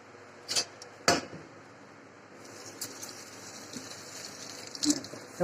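Water splashes and clatters while copper and brass utensils are washed with sour raw-mango water and liquid cleaner, with a few sharp knocks against a sink over a steady background wash.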